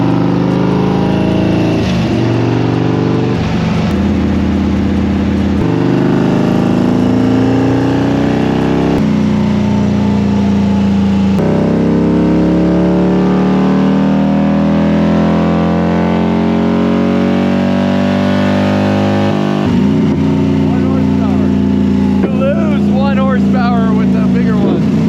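Cammed and tuned 2024 Harley-Davidson Road Glide V-twin roaring on a dyno run, very loud and sustained as it climbs through the revs in long pulls, with voices partly audible over the engine.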